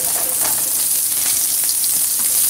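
Garlic sizzles in hot oil in a pan, a loud, even, hissing crackle that holds steady throughout.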